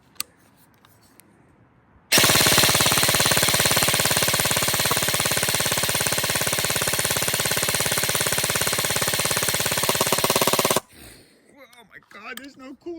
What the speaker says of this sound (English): 130 rounds down range to the Lancer Tactical Gen 4